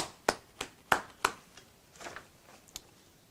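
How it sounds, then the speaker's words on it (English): Sparse, faint hand claps from a small online meeting, a few sharp claps in quick succession followed by softer scattered ones, quiet and thin. "let's give Quinton a round of applause"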